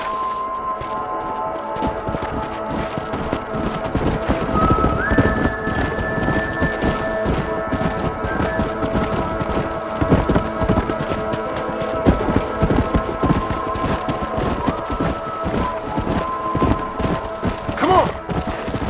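Horses gallop in Red Dead Redemption, with rapid, dense hoofbeats thudding steadily throughout over a rumbling game soundscape, close and loud with no pauses.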